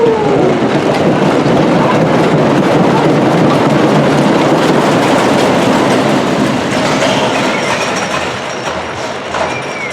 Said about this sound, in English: this is a little bit rougher than the other wooden coaster, but it's still a fun ride